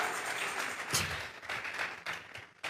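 A church congregation claps together in a sustained burst of applause, somewhat distant and uneven, with a few louder claps standing out.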